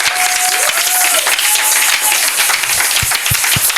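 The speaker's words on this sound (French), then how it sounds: "Ce sont les acclamations des gens qui sont fatigués." Church congregation at a night worship gathering applauding and cheering, a dense continuous wash of clapping with a sustained voice and a few louder claps toward the end.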